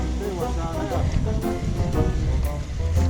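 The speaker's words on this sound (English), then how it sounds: "look at all this water trickling down from the hill" Water trickling down a woodland hillside path, a steady broadband wash and slosh with wind-like rustle, close and continuous, while a voice talks over it at times.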